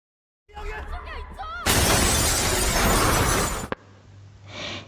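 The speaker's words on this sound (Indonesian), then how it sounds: "Kaca di belakang atas mendadak pecah" Glass train window shattering in the zombie film Train to Busan, a loud, dense burst of breaking glass lasting about two seconds, preceded by shouting voices and followed by quieter rumbling and voices.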